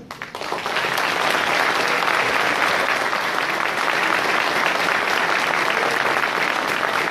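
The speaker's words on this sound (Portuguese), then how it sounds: "eu queria, então, que essa plateia recebesse um grande aplauso mais uma vez" Audience at a university event breaks into loud, sustained applause that swells within the first second and holds steady as a dense wash of clapping.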